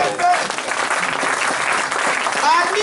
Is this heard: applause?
yes